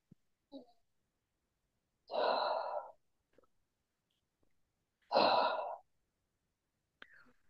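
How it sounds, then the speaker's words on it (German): Slow, audible exhales during a diaphragm and pelvic floor breathing exercise: two soft, close breaths a few seconds apart, with quiet pauses and faint small noises between them. "Und ausatmen."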